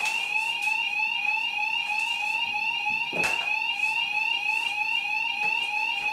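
A bedroom fire alarm under a system test blares a steady, piercing two-tone electronic shriek, loud and close, running nonstop through the whole stretch with only a brief click partway in.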